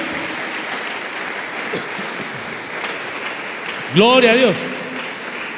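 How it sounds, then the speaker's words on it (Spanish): A church congregation clapping during a sermon, a steady wash of applause throughout, with a voice briefly exclaiming over it near the end. "Démosle palmas al Señor por esa maravillosa verdad"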